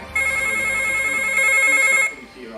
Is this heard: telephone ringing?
yes